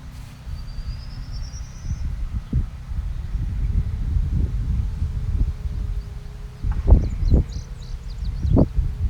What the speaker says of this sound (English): see what kind of a charge value we get off this thing in some of this higher wind